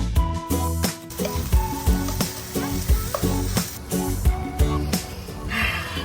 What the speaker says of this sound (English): I'm going to start off with melting a little butter in the pan. Next, I'm going to add the shrimp.